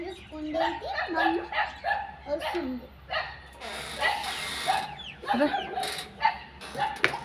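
A dog barks and yips repeatedly in short bursts, fairly close, with people talking over and between the barks.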